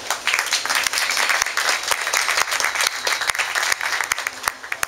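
An audience at a writers' reading event in Michoacán claps for an author, a lively burst of applause with distinct individual claps standing out near the front.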